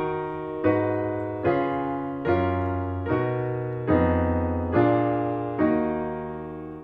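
A falling-fifth sequence chord progression played as a series of about eight sustained chords, each struck cleanly in an even, stately rhythm and fading slightly before the next.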